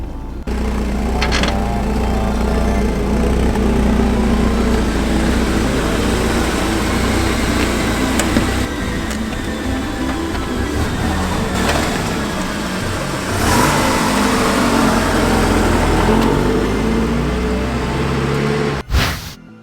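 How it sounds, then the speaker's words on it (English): A 1990 Porsche 944 S2 engine runs steadily at a loud, close idle for most of the stretch, with a deep low rumble and small swells in level before it cuts off sharply near the end. "you can put the key in, turn it, and it'll crank over"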